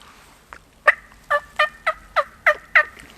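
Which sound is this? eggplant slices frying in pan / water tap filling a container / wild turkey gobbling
wild turkey gobbling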